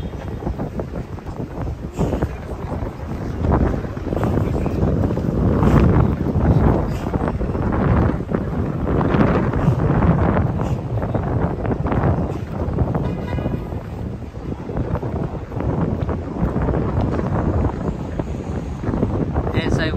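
Strong gusts buffet the microphone on a street near Moynihan Train Hall in Manhattan, a loud, rumbling roar that swells and fades continuously for the whole stretch, with faint city sound beneath it.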